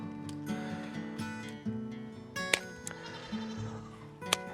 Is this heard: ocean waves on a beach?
no